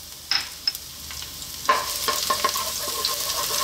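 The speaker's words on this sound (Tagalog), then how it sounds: "Ngayon, magigisa na tayo." Garlic sautés in hot olive oil, a close crackling sizzle with a few sharp utensil clinks and stirring scrapes, getting busier partway through, with no voice.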